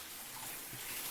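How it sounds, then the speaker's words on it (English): Hot water runs from a bathtub tap with strong pressure, a steady, soft rushing hiss that stays even across the short moment with no voices. "So I just turn on the hot water."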